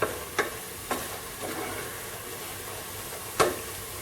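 Home-ground spice masala of cloves and fennel roasting in a pan for a Kuttanad-style duck curry, giving a steady low sizzle broken by a few sharp scrapes of stirring, close and fairly quiet.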